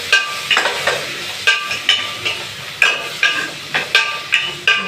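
Tomato sautéing with salt in a pan for a bottle gourd dish, a steady sizzle broken by repeated scraping stirs at an even rhythm, close and moderately loud, with no talking.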